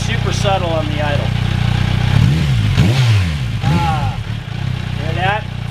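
Close and loud, a Kawasaki Versys 1000 motorcycle with a Holeshot slip-on exhaust blips its throttle a few times, the revs rising and falling over a steady idle, while someone talks over it.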